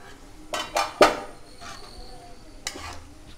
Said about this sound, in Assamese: মই মাংসখিনি লৰাই দিছোঁ।